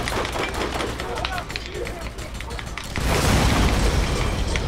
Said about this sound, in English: Did you blow him up?